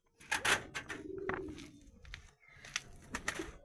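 Madrasi pigeons coo in a loft, several low throaty coos and rolling calls coming close and clear in bursts across a few seconds.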